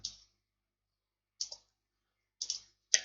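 Mouse clicks while working in Microsoft Word: four crisp, isolated clicks spaced irregularly across near silence, the last pair close together.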